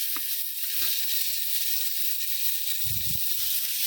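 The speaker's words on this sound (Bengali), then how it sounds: "এই যে আমার টমেটোগুলো ভাজা হয়ে গেছে, উল্টা পাল্টায় আবার টমেটোগুলো আমি ভাজা নিচ্ছি" Tomatoes fry in a pan with a steady, close hissing sizzle and a few soft low knocks from being turned, with no talking.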